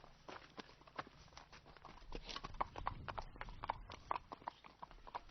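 Steady clip-clop of horse hooves walking in Heihe, China, a continuous run of hoof strikes over faint background noise.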